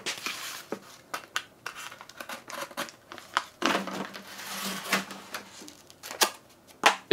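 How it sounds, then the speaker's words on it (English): A regular box cutter fitted with a brand-new razor blade slices into material in short, crisp bursts, with scratchy drags and snips starting and stopping up close and no voices. "this is a regular box cutter, brand new razor blade."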